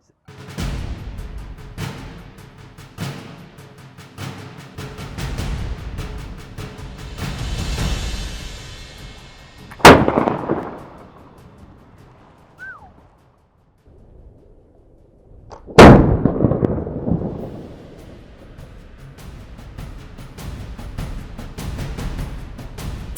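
A historic 1700s–1800s Royal Navy firearm fires two sharp, loud, close reports several seconds apart, each with a short rumbling decay, amid outdoor handling noise and some talk.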